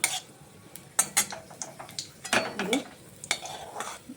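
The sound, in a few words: raisins and cashews frying in ghee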